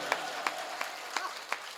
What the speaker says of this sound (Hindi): एक बार जोरदार तालियां बजनी चाहिए।